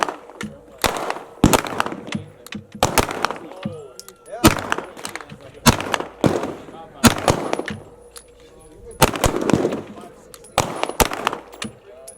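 Canik SFX Rival pistol fired at a shooting range, with sharp loud gunshots in irregular groups of two or three spread across the span, each followed by a brief echo.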